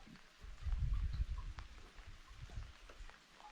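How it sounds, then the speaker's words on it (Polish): Rain falls outdoors, a soft, faint patter of drops with a brief low rumble near the start and no voices. "Deszcz pada"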